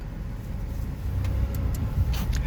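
A car turning around on a road, its engine a steady low rumble that swells slightly partway through, with faint ticks and knocks on top and no talk.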